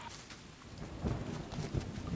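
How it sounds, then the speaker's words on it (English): Steady video game rain patters and hisses continuously, with a low rumbling swell partway through; no voices are heard. "It's raining."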